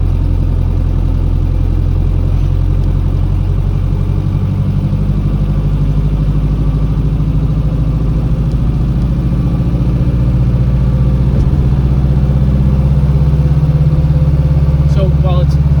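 A 1957 Mercedes 180D diesel engine on the move gives a steady, loud, low rumbling drone that holds evenly throughout, with a few faint clicks near the end.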